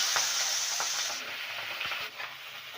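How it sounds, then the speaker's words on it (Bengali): Long-cut spring onion stalks fry lightly in oil, a close, steady sizzle broken by a few soft knocks and scrapes of stirring. "এবারে ওই তেলেই দিয়ে দেওয়া হচ্ছে কেটে নেওয়া পেঁয়াজ কলি"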